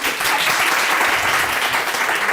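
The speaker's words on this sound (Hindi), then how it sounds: "इनके लिए पहले भी ताली बजा दे" Dense, steady clapping from an audience applauding students after a performance, a continuous close wash of many hands with no gaps.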